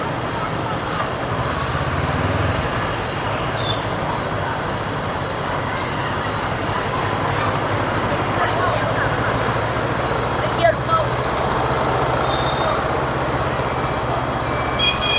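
Dense Hanoi street traffic of small 100cc and 125cc scooters and semi-automatic motorbikes makes a steady, busy roadway hum that stays close and continuous, with brief engine notes and faint horn-like tones.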